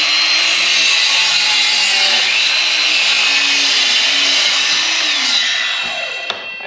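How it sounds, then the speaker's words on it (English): DeWalt 20V cordless miter saw (DCS361) with a 7 1/4 inch blade cutting through a 2x8 board: loud, steady high whine of the blade biting wood for several seconds, trailing off as the cut finishes. "it can still cut through a nice 2x8 on a miter saw that's battery powered with 20 amps"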